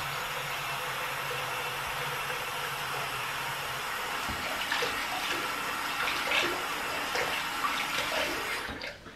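Water running from a bathroom tap while someone rinses their face after cleansing, a steady close hiss of flow with light splashing toward the end.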